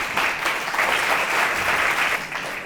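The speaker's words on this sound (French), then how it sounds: "Une salve d'applaudissements pour encourager nos deux derniers candidats" An audience at a high school eloquence contest applauds the last two candidates, a dense, steady clapping from a full room, loud and unbroken throughout with no voices over it.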